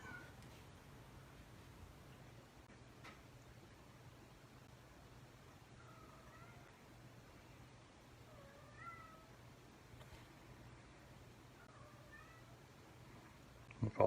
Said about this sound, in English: Apologies if you can hear my cat meowing.